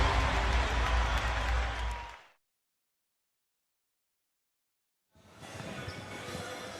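Crowd noise inside the Marikina Sports Complex at a PSL President's Cup 2025 volleyball game, a loud broad roar of cheering and clapping that cuts to silence midway and then returns somewhat quieter.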